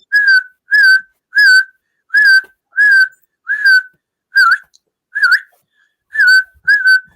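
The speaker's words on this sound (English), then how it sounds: "Where's that whistling coming from?" Repeated whistled notes, about ten short even blasts in a steady rhythm, close and fairly loud with brief gaps between them, heard at home around dogs and no voices over it.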